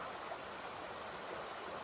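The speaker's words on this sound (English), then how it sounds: "Well, this is a lovely brook." A brook in Maine flows steadily with an even, close-up rush of water, faint and unbroken throughout the short stretch, with no voices.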